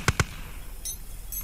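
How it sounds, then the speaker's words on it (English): Two quick, thumping grenade blasts in the Post Scriptum infantry battle game land close together at the start, followed by faint metallic clinks and quiet background noise. "Grenades, make sure they reach."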